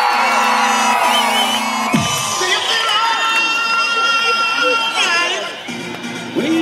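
A large crowd at the Utah State Fair rodeo in Salt Lake City screams, whoops and cheers loudly after an announcer's amplified voice, a sustained roar of many voices with children shouting, echoing across the arena.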